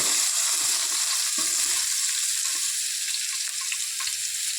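Loud, steady sizzling of chopped onions frying in hot oil for semiya biryani fills the clip, with occasional stirring clinks.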